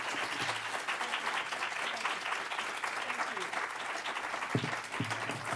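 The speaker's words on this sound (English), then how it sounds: "But first, huge round of applause for one of the coolest senators ever," Audience applauding to welcome Senator Warren at a political event, a dense, steady round of clapping from a sizeable crowd, with a brief voice or two surfacing near the end.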